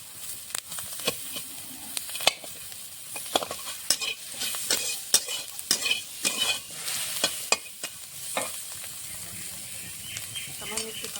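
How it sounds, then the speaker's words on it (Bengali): Green chillies fry in a pan and are stirred and crushed with a metal spatula, sharp scraping clacks repeating irregularly over a low background sizzle. "লঙ্কাটা খুন্তি বেশি ভেঙে দেবো, ভিতরে ভালো করে ভাজা হয়ে যাবে"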